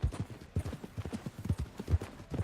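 Hooves of a horse in Red Dead Redemption 2 clip-clop at a steady walking pace, close and distinct, with regular paired strikes and no talk over them.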